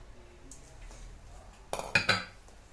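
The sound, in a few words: frying pan being handled while adding olive oil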